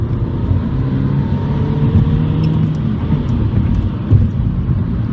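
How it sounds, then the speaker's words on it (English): A Porsche 911 Turbo S and a LaFerrari drive nearby during an overtake, a loud, steady low engine roar and road rumble throughout with a slight swell near the end and no talking. "Oh, Ryan's going for the overtake at the LaFerrari."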